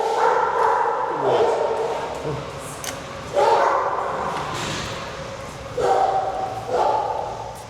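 A police K-9 dog at an air force base gives short excited barks and yips in several bursts, close by, with people talking over and between them.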